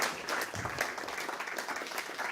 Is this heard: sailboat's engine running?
no